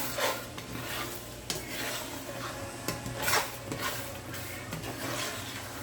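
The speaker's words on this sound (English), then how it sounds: "So I'm going to saute this around a little bit." Black rice ingredients sauteing in a pan with black pepper: a continuous sizzle under repeated scraping and stirring, with spoon clinks against the metal pan at irregular intervals, close and moderately loud.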